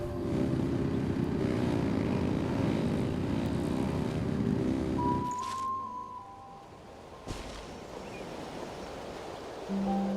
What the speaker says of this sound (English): engines!